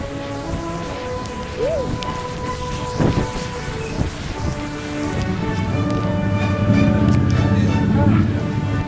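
Night rain falls in a city, a steady wash of drops on surfaces blended with traffic and low rumbling that builds toward the end.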